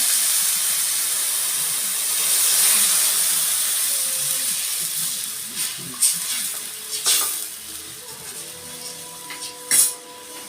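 Water hits a hot pan of fish, giving a steady loud hiss and sizzle, followed by scattered clinks and knocks of cookware near the end.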